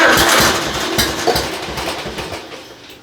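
A new engine catches and runs briefly on starter fluid, loud rough chugging at first that gradually fades and settles, with no voices.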